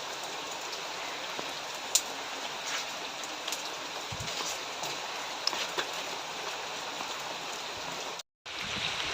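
Steady rain falling on surfaces, a dense even hiss with occasional louder drops, continuous and fairly close, with a brief dropout near the end.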